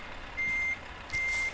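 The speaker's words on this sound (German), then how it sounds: "Ich drücke den Rückwärtsgang rein" Reversing beeps from a truck in Euro Truck Simulator 2 sound as two evenly spaced electronic tones over a steady engine drone, clear and close, with no one speaking.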